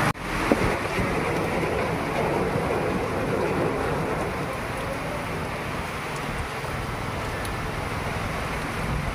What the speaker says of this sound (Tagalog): Grabe ulan oy.